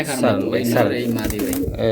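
Close, throaty cooing from a pair of big male and female pigeons in rolling bursts, loud and continuous over the short stretch, with faint flutters in the background.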